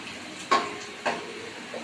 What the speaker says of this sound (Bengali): দেখুন এর মধ্যে এবার আমি পেঁয়াজগুলোকে ছেড়ে দিচ্ছি